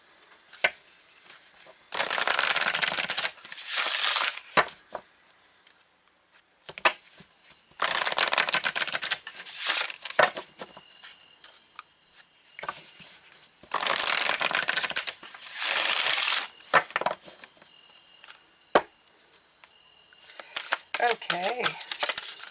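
Light, glossy tarot cards shuffled by hand in several loud, crisp bursts of riffling and slapping, separated by short quiet gaps and softer handling noises.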